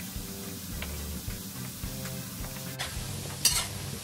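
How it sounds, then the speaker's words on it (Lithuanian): Potatoes fry in hot oil with a low, steady sizzle, joined by a brighter burst of spitting and crackling partway through, close and moderately quiet without speech. "Kol kepa bulvės"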